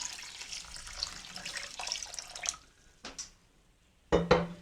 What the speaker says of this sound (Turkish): İlk olarak üzerine soğuk su ilave ediyorum şöyle basana kadar